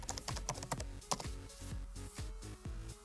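Quick, irregular keystrokes clatter on a computer keyboard, close and fairly quiet, with short bursts and brief pauses and no talking.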